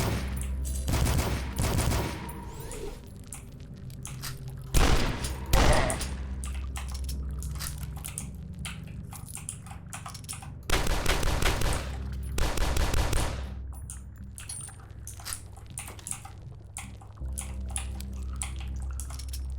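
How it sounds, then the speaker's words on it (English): Machine gun fire in the retro first-person shooter DUSK, heard as loud bursts of rapid gunfire separated by quieter stretches of game sound, with several strong volleys through the passage. "This is a machine gun."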